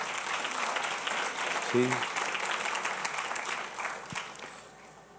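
A church congregation applauds the Lord during a Spanish-language sermon, a broad continuous wash of clapping throughout, with a short spoken word from the preacher briefly over it.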